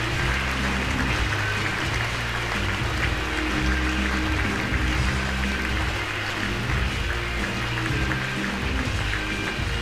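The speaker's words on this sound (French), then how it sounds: "Veuillez accueillir avec un tonnerre d'applaudissements Daniel Eisele." Steady applause from an audience welcoming a speaker on stage at the Röpke Prize ceremony in Zürich, a continuous even wash of clapping at moderate level, with a low hum beneath.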